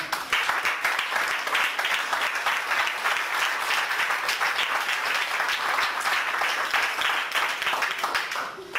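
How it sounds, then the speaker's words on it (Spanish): Congregation applauding during a church service, a steady, full wash of many hands clapping at even loudness from start to finish with no break. "Aplaudan al Señor."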